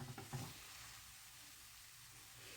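Raw mango pieces sautéed in a kadhai without ghee, giving a soft, faint sizzle with a few stirring knocks at the start before settling into a quiet, steady hiss.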